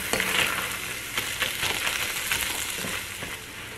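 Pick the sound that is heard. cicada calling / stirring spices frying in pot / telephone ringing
stirring spices frying in pot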